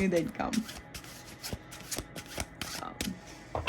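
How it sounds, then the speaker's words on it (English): Linen-finish playing cards are shuffled by hand in a traditional shuffle, giving repeated close, papery riffles and soft slaps in quick bursts while a person talks over them. "I'm gonna just do these in a traditional shuffle"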